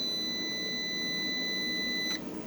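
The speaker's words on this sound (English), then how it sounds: "The beeping noise is number 18." An EG4 6500EX 48-volt solar inverter sounds a steady, continuous electronic beep tone for about two seconds, clear and close, before it cuts off.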